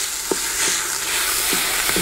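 Minced meat frying in a Dutch oven potjie, a steady loud sizzle with a few scraping stirs cutting through at intervals.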